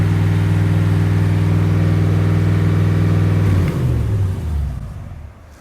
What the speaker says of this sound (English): That idle should be coming down, but it's just simply not.